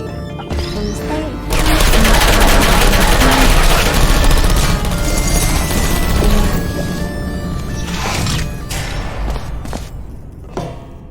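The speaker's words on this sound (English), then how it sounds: "This next test involves turrets" Portal 2 turrets unleash a loud, sustained burst of bullet fire, a dense rattling barrage with crashes and thuds that starts abruptly after a quiet second and holds for most of the clip before easing off near the end.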